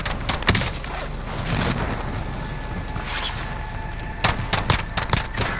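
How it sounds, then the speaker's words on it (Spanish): Gunfire in Call of Duty: Modern Warfare rattles in dense, overlapping bursts of shots, loud and close, with a few sharper cracks standing out near the end and no talking. "Me están disparando."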